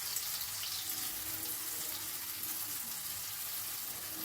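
Chopped carrot with cumin seeds frying in a pan on high flame gives a soft, continuous hiss and sizzle, fairly faint and even throughout, with no talking.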